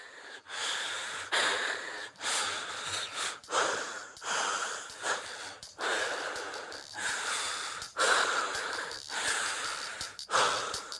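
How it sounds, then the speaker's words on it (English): Heavy, ragged breathing from a game character who is out of breath after running, with loud panting gasps and snorts coming in uneven bursts close up and continuing throughout. "is basically the sound of him being out of breath from running"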